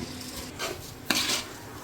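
A spoon scrapes and clinks against a pot while ghee and masala are mixed into beef dum biryani rice, a few soft stirring strokes and one sharper knock, quiet and close, no voices.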